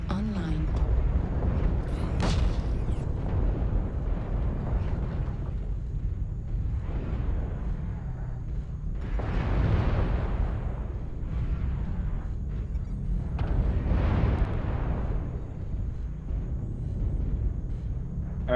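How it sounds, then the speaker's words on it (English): Repeated low, rumbling airstrike blasts in a mech combat video game, rolling booms swelling and fading across the stretch with constant game noise beneath. "Airstrike online."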